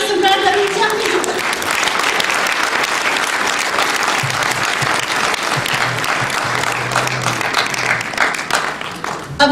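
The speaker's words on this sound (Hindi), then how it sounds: "तालियों से स्वागत करते हैं हास्य सम्राट अरुण जी का।" An audience at a Hindi comedy poetry gathering in Morrisville bursts into sustained applause to welcome a humorous poet, dense clapping continuing for several seconds at full strength, with a voice faintly heard at the start.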